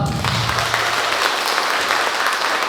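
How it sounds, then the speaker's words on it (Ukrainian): Loud, steady applause from a large theatre audience after a play, continuous clapping filling the whole stretch without a break. "Дякуємо вам щиро за ваші щирі оплески."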